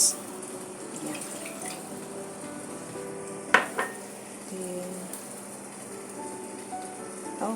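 Dried ingredients for a Chinese-style winter soup go into a pot of boiling water: a faint bubbling bed, a sharp clink and splash midway, then quieter clatter.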